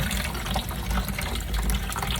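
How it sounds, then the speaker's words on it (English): Warm tap water runs into a basin, a close, continuous gushing splash with no voices. "we're gonna run some warm water"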